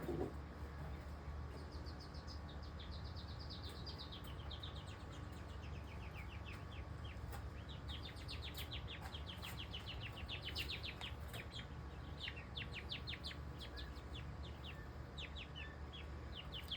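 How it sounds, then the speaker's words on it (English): Two-week-old chicks chirping in a quiet enclosure, a rapid series of faint, high peeping calls in bursts that grow busier toward the end, with a soft steady hum underneath. "One of them in there chirping pretty good."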